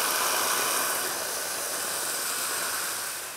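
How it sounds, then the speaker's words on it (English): White wine hitting a very hot pan of onions, a loud, steady broadband hiss that holds for several seconds and fades slightly at the end, with no talking. "we need to deglaze with some white wine"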